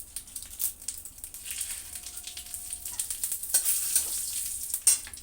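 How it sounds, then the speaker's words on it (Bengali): Cumin seeds and a bay leaf crackle and sizzle in hot oil nearby, with irregular popping bursts and a few spatula scrapes over a bright hiss. "এবার এই তেলের মধ্যে আরও কিছুটা তেল দিয়ে দিলাম, দিয়ে দিচ্ছি জিরে ফোড়ন, তারপরে দেবো তেজপাতা"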